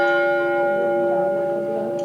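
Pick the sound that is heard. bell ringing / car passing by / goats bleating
bell ringing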